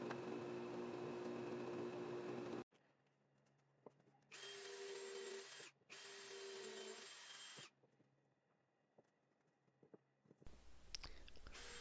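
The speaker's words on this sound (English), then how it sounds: "pre-drilling the pieces, putting them in place, and then I'll just screw them all into position" Bursts of a power drill whirring as it pre-drills wooden shelf pieces, several short runs separated by pauses, close and fairly loud, with faint handling noise between.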